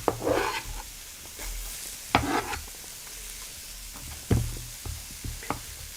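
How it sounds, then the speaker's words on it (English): Onions for a loaded potato hash sizzle softly in a pan, a low steady fry under a few sharp knocks and scrapes of a utensil against the pan, with no talking. "Got some onions going in here."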